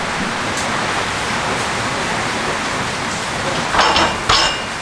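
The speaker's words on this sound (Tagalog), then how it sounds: "sobrang lakas ng ulan" Heavy rain during a typhoon, a loud, constant hiss of downpour on surfaces, with two brief louder bursts of splashing near the end.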